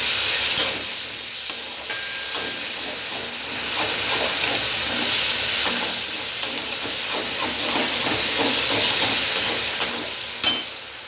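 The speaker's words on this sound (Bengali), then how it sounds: "ভালো করে আমি কষিয়ে নেব।" Spice masala with sugar sizzles as it is sautéed in a pan for a cabbage, potato and pea dish, a steady frying hiss broken by sharp clacks of a spatula scraping and stirring.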